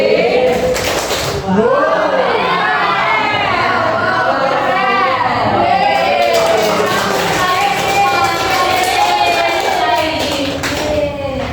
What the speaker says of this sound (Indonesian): kita tepuk wow sama-sama